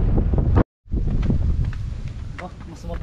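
Strong wind buffets the microphone at the summit of Mount Banoy in Batangas City, a loud continuous roar with one brief dropout before it resumes unbroken.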